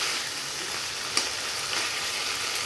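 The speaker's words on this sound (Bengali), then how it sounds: "এই রসুনের যে আমি ফোড়নে দিলাম" Garlic tempering for mutton curry crackles in hot oil, an even, close sizzling hiss with one sharp pop midway.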